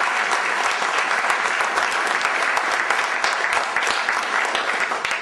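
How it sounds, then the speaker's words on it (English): Sustained audience applause fills the room, dense steady clapping from a large crowd at a recognition event, loud and continuous throughout with no talking. "Can you give us a round of applause?"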